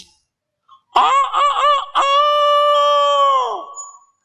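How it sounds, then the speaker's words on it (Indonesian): A rooster crows loudly and close by, a long strained call with a rising start and a sustained, fading end, heard alone without talk. "Tidak mungkin ayam kongkorongok kecuali dengan izin Allah."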